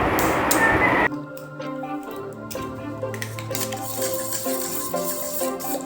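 Three eggs being stirred in a bowl as a mixture for crispy spinach and tofu, with clinking utensil scrapes over a steady background.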